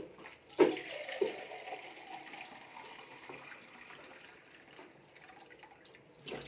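Water being poured into a container for making a herbal iron tonic syrup: a short splashing burst early on, then a steady soft trickle of pouring water that continues until it fades out near the end.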